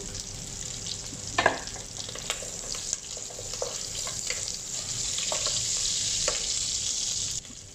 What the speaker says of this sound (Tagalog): Lagay na natin yung luya. Saka natin sunod yung bawang.